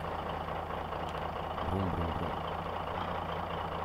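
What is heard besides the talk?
bus engine sound in a zombie car video game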